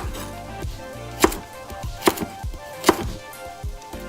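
Knife chopping carrots into rounds on a cutting board for vegetable soup, a series of crisp, evenly spaced thwacks with quieter taps between them, close up.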